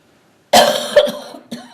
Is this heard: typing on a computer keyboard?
no